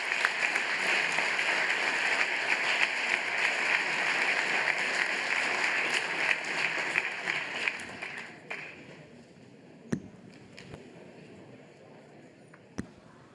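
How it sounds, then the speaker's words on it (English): Audience applause for the panelists at a global dialogue conference in Berlin, a dense steady clapping from a large crowd for about eight seconds, then fading to scattered claps and a few isolated sharp claps near the end. "This is your applause."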